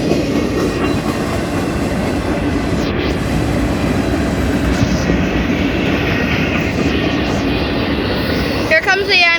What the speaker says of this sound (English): Here comes the end, guys, but we still got a little bit of train left.